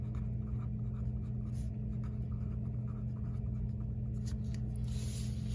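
Handwriting on a surface, a steady faint scratching of strokes set against a constant low background hum, with no voices.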